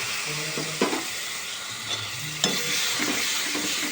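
Spice paste sautéed in a pan, with salt and a little water added, giving a steady close sizzle and a few scattered scrapes and taps of stirring, with no talking.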